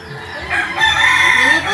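A rooster crows once, close by and fairly loud, its call rising and stretching out over a faint background of outdoor noise.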